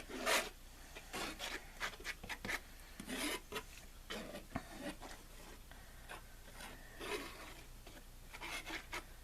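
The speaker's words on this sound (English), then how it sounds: "So all I'm doing is using the spatula and just getting it to the edges." A spatula spreads white paint across a 20x20 canvas out to the edges, making repeated short rasping scrapes in uneven bursts, close and fairly quiet.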